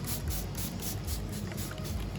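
Rhythmic bursts of hissing water spray pulse close by onto model mountain scenery, a quick series of short squirts over a low background rumble.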